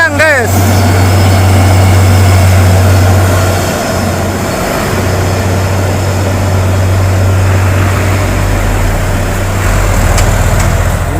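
A Hino 500 truck carrying an excavator grinds uphill, its heavy diesel engine droning loudly and steadily at close range throughout.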